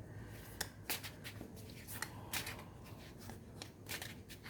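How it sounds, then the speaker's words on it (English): Tarot cards riffled and shuffled close by, a quick run of soft papery flicks and slaps with several sharper snaps as cards spill from the deck, over a faint low room rumble. "The cards are falling out very quickly."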